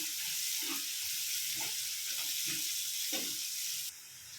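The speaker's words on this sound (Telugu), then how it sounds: "ఇప్పుడు పచ్చిమిర్చి వేసుకుందాం. పచ్చిమిర్చి బాగా వేగాలండి," Green chillies fry with onions in a hot pan for an anapkai (bottle gourd) curry, giving a steady close-up sizzle with a few soft stirring scrapes spaced through it. No one speaks.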